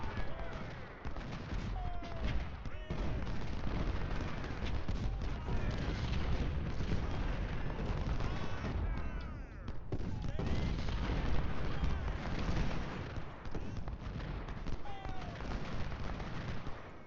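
Dense cannon and rifle fire from a Civil War battle in the Ultimate General Civil War game, Battle of Bull Run: continuous overlapping volleys and booms, loud and unbroken throughout, with a voice talking over it.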